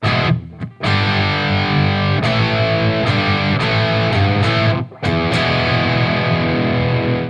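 A distorted electric guitar riff jumping between G5 and A, loud and close, with chugging chords broken by short muted stops and quick hits.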